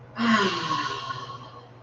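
A single deep breath during a gentle yoga session, a strong sighing inhale through the nose followed by a long, slowly fading exhale, close and alone.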